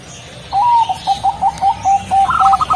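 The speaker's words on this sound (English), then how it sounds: "the Javanese turtle dove's voice is relatively small and thin" A Javanese turtle dove coos nearby, a thin, small voice repeating short soft notes in a steady rhythm over a quiet background.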